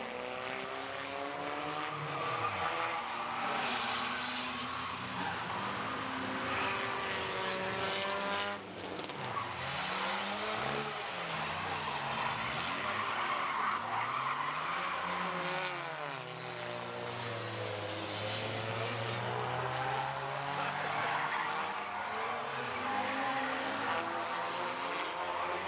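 Race cars lapping Midvale Speedway during an October night race, engines roaring steadily and rising and falling as they pass, a continuous loud field of sound with no talk.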